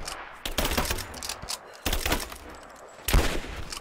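Gunfire in Rise of the Tomb Raider during a railyard battle: three sharp bursts of rapid shots roughly a second apart, punchy and near, with short gaps between.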